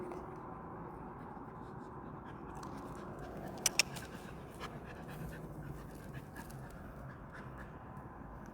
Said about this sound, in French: Oh le gentil chien.